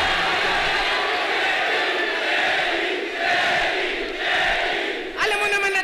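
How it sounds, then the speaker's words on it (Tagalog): A large crowd shouts and roars continuously at a FlipTop rap battle, a dense, loud wall of voices that swells and stays heavy throughout. "Sigawan agad mga tao, no?"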